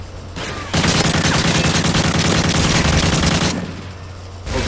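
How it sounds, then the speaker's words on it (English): Sustained automatic gunfire from a sentry gun in the video game Modern Warfare 3, a dense rapid burst lasting several seconds that fades out, with no talking over it. "Oh, sentry gun, sentry gun."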